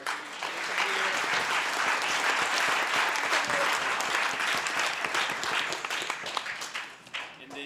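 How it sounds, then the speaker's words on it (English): Audience applause for academic challenge teams at a school competition's final round, a steady dense clapping that swells quickly, holds, then thins and fades near the end. "Let's take a moment real quick and just applaud all of our"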